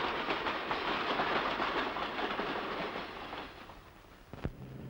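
An ordinary freight train hauling nuclear fuel flasks rolls past with a broad, steady rumble and faint rhythmic clatter of wheels, fading slightly toward the end with a brief sharp knock.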